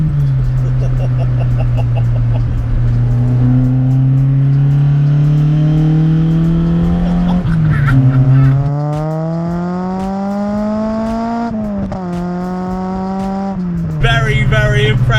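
Toyota Starlet SR with a swapped 4AGE Corolla engine, about 170 bhp, pulling hard through the gears, its loud close engine note climbing in pitch, dropping briefly at each shift, then rising again.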